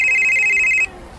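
A cellphone rings with a steady, high electronic tone for just under a second and then cuts off, leaving quiet room noise.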